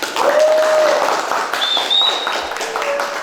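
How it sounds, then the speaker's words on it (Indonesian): A classroom group applauds a presenting team with a dense, continuous burst of clapping from many hands, and shouts and whoops rise over it. "berikan aplaus untuk kelompok 1"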